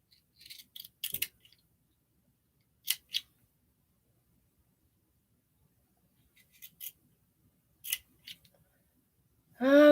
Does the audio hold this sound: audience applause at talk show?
no